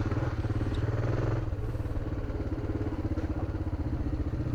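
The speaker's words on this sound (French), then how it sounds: "C'est vrai que t'arrêtes pas avec la moto, tu freines," Motorcycle engine ridden off-road during a Morocco rally raid, a loud, close, steady throbbing with rhythmic pulsing and slight changes in pitch as it eases off and picks up again.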